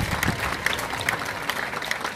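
Applause at a Ghana Armed Forces pull-out ceremony for a chief of defence staff, a steady patter of clapping from a gathered crowd, moderately distant and even throughout.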